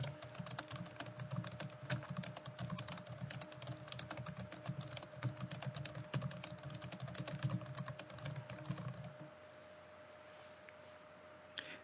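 Rapid, steady keystrokes patter on a computer keyboard while text is entered into a PowerPoint 2007 text box, close and continuous for about nine seconds before stopping into a quiet hum.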